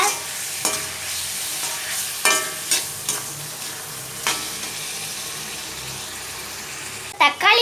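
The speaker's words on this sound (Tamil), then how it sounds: "மஞ்சத்தூள் சேர்த்து எல்லாத்தையும் நல்லா வதக்கி விட்டுக்கோங்க." Tomato and onion with turmeric sautéing in a pan for a Sankara fish gravy, a soft steady sizzle broken by several sharp scrapes of a spoon stirring, with a louder clatter near the end.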